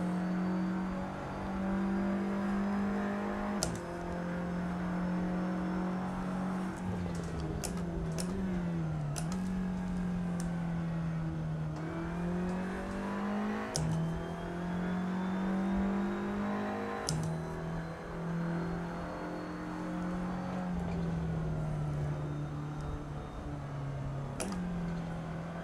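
Audi race car engine in an SRS sim racing game, droning steadily for the whole stretch, its pitch rising and falling through gear changes, with occasional sharp ticks and clicks over it and no talking.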